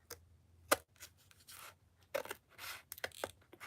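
Scissors cut a book page in a few quiet, close snips and paper rustles, with short pauses between strokes.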